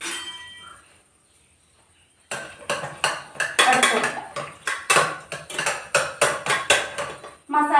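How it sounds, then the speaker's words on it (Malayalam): Boiled potatoes pounded and crushed in a pot with a utensil, rhythmic repeated thuds and metallic clanks after a brief quiet start, close and fairly loud. "അപ്പോൾ നമുക്കൊരു കയ്യിലോട്ട് ഒന്ന് കുത്തി ചതയ്ക്കാം."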